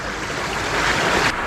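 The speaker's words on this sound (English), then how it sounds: "So what I'm going to do is get some water in the classifier there." Water pours into a gold prospecting classifier full of gravel out in the mountains, a close, loud, continuous rushing splash that swells slightly before cutting off abruptly near the end.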